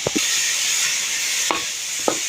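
Chicken and mixed vegetables stir-fried over a high flame, a steady close hiss of frying broken by a few quick scraping stirs of the spatula against the pan.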